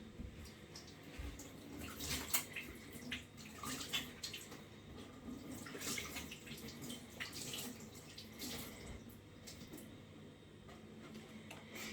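Hands being washed under a running tap, a continuous soft splash of water at low volume with small irregular swishes and drips and no talking.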